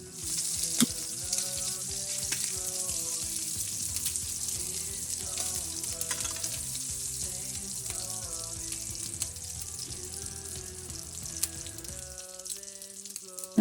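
Sirloin tip steaks searing in a greasy pan, a constant loud sizzle with some crackle, over faint background music with steady tones.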